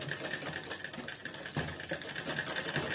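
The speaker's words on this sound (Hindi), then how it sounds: "उसके बाद इसमें सिलाई करेंगे" A sewing machine stitches a lined blouse in a continuous fast mechanical whir with rapid needle clatter, close and steady for the whole stretch.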